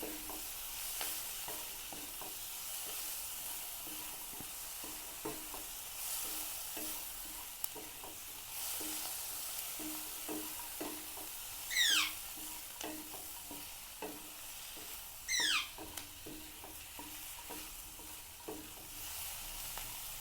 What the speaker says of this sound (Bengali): আর রসুনগুলোও দিয়ে দেবো এগুলো সব একসঙ্গে আবার একটু ভেজে নেবো